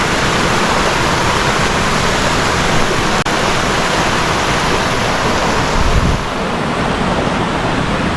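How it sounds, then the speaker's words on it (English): Riverside waterfall pouring down into a river, a loud continuous rushing roar of falling water that fills the whole stretch without pause, heard up close with no talking. "You have another fall here."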